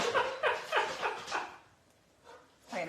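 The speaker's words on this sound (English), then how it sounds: "that is our Bassett's breathing, not mine. Our Bassett's breathing hard." Indoors, a basset hound breathes hard in quick, rhythmic huffs, five or six raspy pulses close by, then a brief lull before another breath starts.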